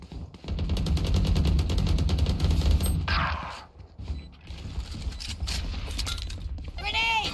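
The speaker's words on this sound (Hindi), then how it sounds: "ग्रेनेड." Gunfire and a grenade blast from the tactical shooter Valorant: dense rapid shots and a loud burst for about three seconds, then lighter gunfire and game effects, all close and loud.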